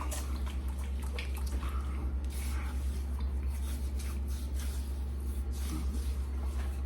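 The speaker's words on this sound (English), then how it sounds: "Let's go ahead and get started on the lathering." A boar bristle shaving brush lathering shaving soap, producing soft, wet swishing and squishing strokes in an irregular rhythm, close and quiet over a low steady hum.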